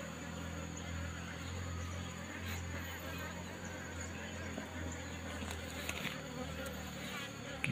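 Apis cerana honeybees hum steadily at their nest with freshly built white comb, a faint continuous drone that stays even throughout, with a few soft knocks.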